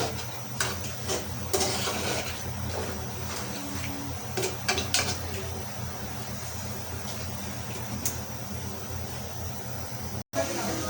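Beef curry being stirred in a pot: a spoon scrapes and clinks irregularly over a steady cooking hiss for several seconds, with a person speaking at times.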